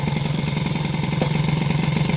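The engine of an SPX/RCX personal watercraft runs at a steady idle, giving a continuous low throbbing hum with a slight rhythmic vibration that stays even and close throughout.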